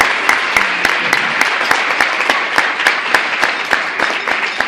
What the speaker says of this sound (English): And you need to applaud yourself.